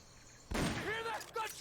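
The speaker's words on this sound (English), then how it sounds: "Hear that? Gunshots!" Distant gunfire in Metal Gear Solid: Peace Walker, a sudden burst of shots that breaks a quiet background, followed by a voice speaking over the sound.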